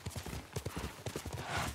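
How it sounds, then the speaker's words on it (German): Horse hooves clip-clop in a quick, even rhythm of about a dozen distinct close thuds in the video game Ghost of Tsushima, heard alone without talk. "Du bist ein gutes Pferd."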